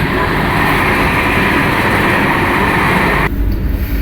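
Steady, dense rumble of an express train rolling at around 130 km/h in darkness, heard from inside the coach as continuous loud wheel and track noise, with a slight shift in tone near the end and no speech.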